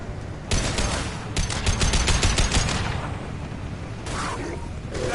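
Rapid bursts of impact-shot gunfire from the video game Mass Effect 2, loud and close, with a dense volley of cracking shots followed by a pause and a further burst.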